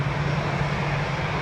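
An airplane takes off at Lisbon Airport, heard as a brief, steady, broad engine roar with a low humming drone underneath, no voices.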